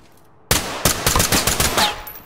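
Rapid gunfire in the tactical shooter game Ready or Not, several sharp loud bursts and shots in quick succession after a short quiet start, close and forceful.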